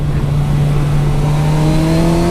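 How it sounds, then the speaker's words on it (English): A Kawasaki Versys 1000 SE GT motorcycle engine revs loud and close during a test ride, its steady drone rising in pitch as it accelerates. "this is a very Kawasaki-ish engine"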